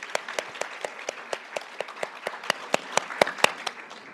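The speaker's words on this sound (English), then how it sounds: "let's welcome our panel with a big round of applause" Audience applause welcoming a panel of chefs in an auditorium, a close, clear, rhythmic clapping with sharp individual claps ringing out over a softer crowd patter.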